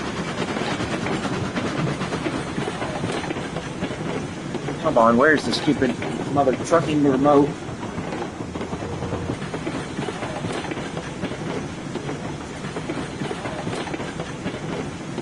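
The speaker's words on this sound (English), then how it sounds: "Better just turn down the train volume." Loud rumbling train sound with steady rail clatter filling the whole span, while someone speaks over it partway through.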